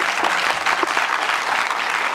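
A crowd at a screening of a documentary in Nîmes applauds the film director loudly, dense continuous clapping throughout.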